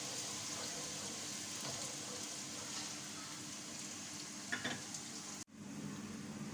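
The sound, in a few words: onions frying in a pan until golden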